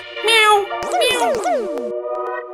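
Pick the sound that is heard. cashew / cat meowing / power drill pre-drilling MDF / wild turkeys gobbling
cat meowing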